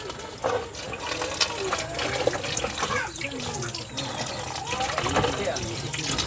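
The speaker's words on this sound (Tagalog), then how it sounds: "hugasan po natin yung okra" Tap water runs steadily while okra is washed in a kitchen sink, a continuous splashing stream with some clatter, and people talk over it throughout.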